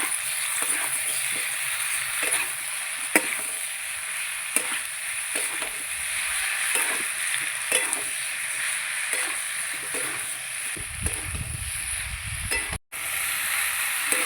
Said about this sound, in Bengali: এবার ভালো করে মশলার সঙ্গে সবজিগুলো কষিয়ে নেব।